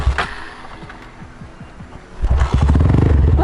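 A Honda CB motorcycle engine cranks with a rapid chugging starter rhythm for about two seconds, then catches and settles into a loud, close idle.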